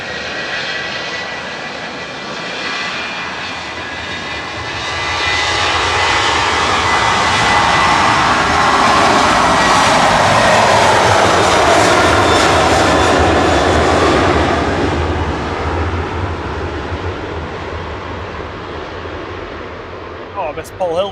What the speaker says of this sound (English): Ryanair departing now to Faro, flight 4052.